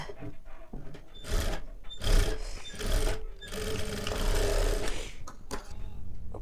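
Electric sewing machine stitching a collared katori blouse: bursts of whirring motor hum, rising and stopping several times, with faint fabric rustle in between.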